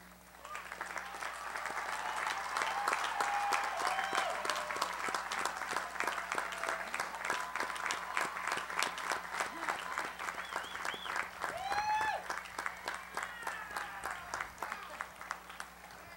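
A large commencement crowd at a university College of Science and Mathematics ceremony applauds honors graduates, with dense, steady clapping that lasts about sixteen seconds at an even level.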